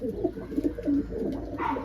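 A pigeon coos close by, a few soft, throaty rolling calls in quick succession.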